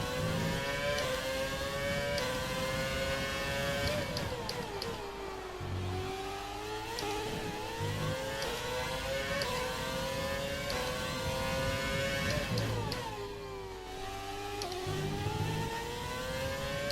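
Race car engine in the F1 2020 video game, with a Renault power unit, revving and shifting continuously as the car runs behind another car, rising and falling pitch sweeps, loud and steady throughout with no talk.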